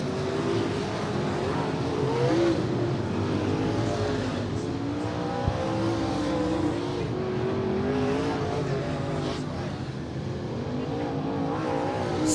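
Race cars roar around Willamette Speedway at the checkered-flag finish of a 40-lap race, several engines revving and droning together loudly and continuously, with no voices over them.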